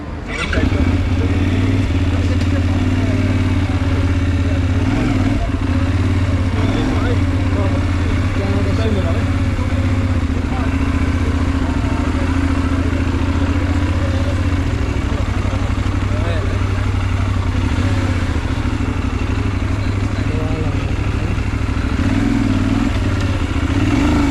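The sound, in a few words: Benelli 752S motorcycle engine on a test ride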